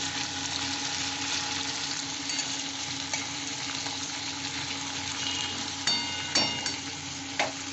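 Potatoes frying in hot oil with nigella seeds and green chilli give a steady, close crackling sizzle throughout, with a few sharper pops and clicks near the end.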